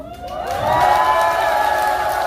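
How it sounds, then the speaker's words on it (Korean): An outdoor audience at a Jindo ssitgimgut folk performance lets out a loud shout and cheer that swells after a brief lull and then stays steady, with whoops rising above the crowd. "다같이 함성소리"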